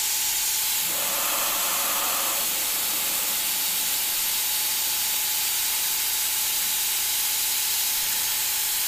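An airbrush sprays paint in a steady, continuous hiss with a brief stronger burst near the start, running alone without talk.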